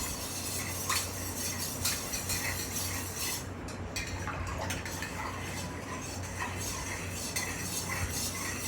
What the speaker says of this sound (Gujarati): આમ ફેરવતા રહીએ છીએ ખાંડને